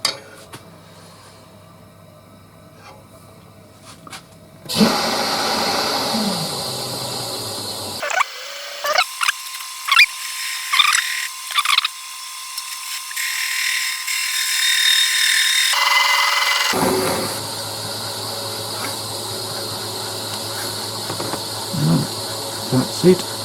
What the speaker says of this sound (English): Now I'm going to try and take as much of this off with the gouge as I possibly can.